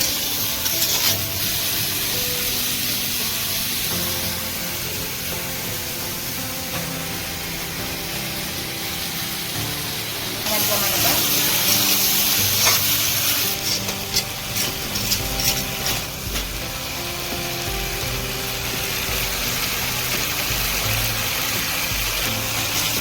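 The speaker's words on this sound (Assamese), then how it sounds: "ভালদৰে ভাজি লওঁ।" Fish coated with raw turmeric and salt frying in a pan for an Assamese fish curry, a steady close sizzle running throughout with louder crackling bursts midway and occasional utensil scrapes.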